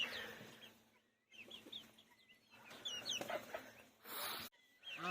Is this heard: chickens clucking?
yes